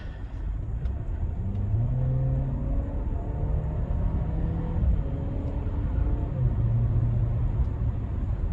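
Audi Q7 Premium Plus engine drone from inside the cabin while cruising, with steady low rumble and rising tones that drop as the transmission shifts up early through the gears.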